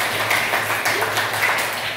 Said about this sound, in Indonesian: Tepuk tangan untuk Ranop.